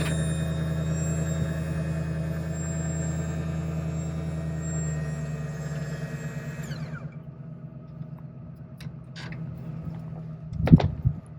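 Van wheelchair lift running with a steady mechanical whine and hum that winds down and stops, followed by a few quiet clicks and a final clunk.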